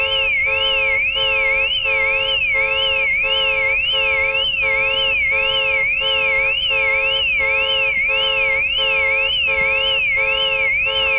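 Car alarm blaring in the game Car Dealer Sim, a loud, continuous electronic wail sweeping rapidly up and down in pitch without pause for the whole stretch, with no one speaking.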